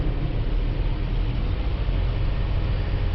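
Car engine being brought up toward 2,000 RPM, a continuous broadband mechanical hum and rumble, steady and fairly close, with no voices over it.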